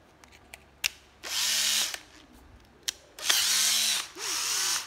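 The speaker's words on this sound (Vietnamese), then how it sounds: "mình chỉnh lại cái chế độ khoan này, mình thử cái đầu lại cho mọi người đã" A used Japanese cordless drill runs in three loud, close bursts of whirring with a rising and falling motor pitch, separated by short pauses and sharp clicks of settings being changed.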